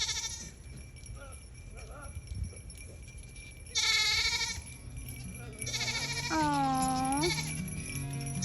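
Goats bleating in a farm group, a few wavering calls rising clearly over soft background noise, with a brief spoken remark between them.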